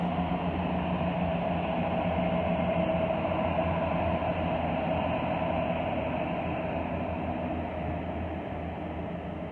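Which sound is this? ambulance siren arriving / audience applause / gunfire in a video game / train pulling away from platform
train pulling away from platform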